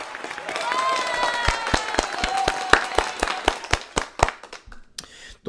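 A small group of people claps after passing a theory driving exam, scattered distinct hand claps over a softer murmur, thinning out and stopping toward the end.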